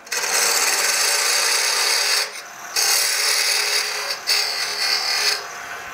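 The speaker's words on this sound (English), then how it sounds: "So I'm going to make a sort of a tenon on this side that is exactly 20 mils." Wood spinning on a lathe as a turning tool cuts a tenon to size, giving a steady loud hiss and scrape that stops briefly twice, with no talking.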